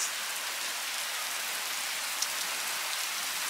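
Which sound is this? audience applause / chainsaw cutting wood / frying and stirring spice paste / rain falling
rain falling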